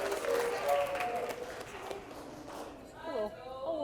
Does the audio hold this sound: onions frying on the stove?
no